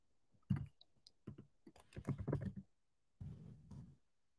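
Close, quiet clicking of a computer keyboard as a search is typed, in short uneven bursts of keystrokes with brief pauses.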